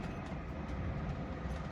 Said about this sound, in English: Big diesel locomotive, they go.